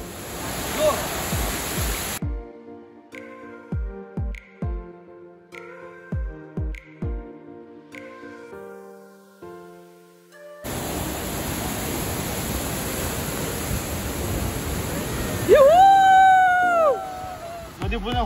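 Stream water rushes loudly and steadily through a dense forest in heavy rain near Washi-Kule village, Sangameshwar. The roar drops out for a stretch of plucked, spaced musical notes, then returns with a voice over it.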